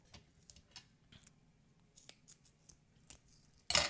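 Scissors snipping in a handful of short, crisp cuts spread out over a few seconds, close up and fairly quiet, ending with one louder clatter, with no voices.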